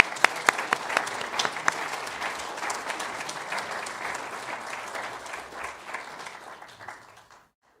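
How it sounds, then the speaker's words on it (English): Audience applause at a spiritual community service honoring two departing members, with sharp individual claps standing out early before a dense wash of clapping fills the room and then cuts off abruptly. "Can we get another round of applause for Carol Scanny and Maxine Zito?"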